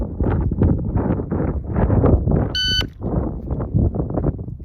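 A shooting timer gives one short, sharp electronic beep, bright and clear, partway through a steady roar of wind buffeting the microphone outdoors.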